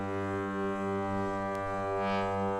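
A synthesizer's capacitive touch keys, played by rocking a finger down onto them to widen the contact, give a sustained, harmonically rich drone that swells slightly, heard alone and fairly soft.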